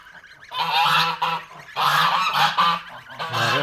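Domestic geese kept at a Kazakh village home honking loudly and close, a series of harsh, nasal calls in bursts with short pauses between them.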